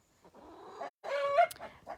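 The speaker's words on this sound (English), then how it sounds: "these hens are here for laying eggs, and then with this group of hens and the one rooster" Laying hens and a single rooster on a farm give a few short clucks and one drawn-out call, fairly quiet with brief pauses between.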